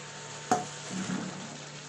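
Fried vegetables tipped into a hot frying pan land with one sharp clatter, followed by a soft, steady sizzle and faint stirring noises.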